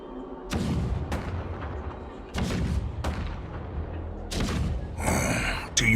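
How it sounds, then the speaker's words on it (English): Cannons rumble in battle in the video game Honkai Star Rail: a series of loud, deep booming blasts, several in a row with brief gaps, ending in a harsher, brighter burst. "The rumble of the cannons."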